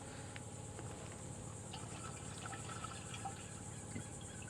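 Roundup concentrate, 2.5 ounces, is poured through a strainer into a backpack sprayer tank, giving a faint, steady liquid trickle with a quiet hiss throughout.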